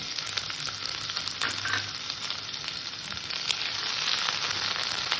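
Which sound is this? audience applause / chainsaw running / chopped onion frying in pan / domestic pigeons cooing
chopped onion frying in pan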